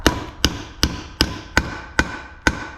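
A steady series of seven loud hammer blows driving a bearing race into a trailer wheel hub, each a crisp ringing clang, evenly spaced and close up.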